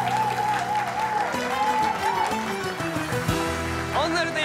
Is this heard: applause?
yes